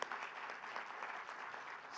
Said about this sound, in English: Let us clap